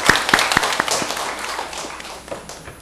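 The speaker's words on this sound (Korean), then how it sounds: "박수 한번 쳐주세요." A church congregation at a Sunday worship service claps, with a few sharp separate claps at first, then a looser, softer patter of applause.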